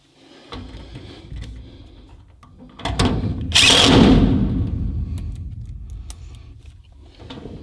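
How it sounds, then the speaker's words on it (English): A power drill drives screws into a storage cabinet panel, with a close, loud whirring burst in the middle, then a slowing grind, amid quieter handling clatter before and after. "I'm just going to put those screws in"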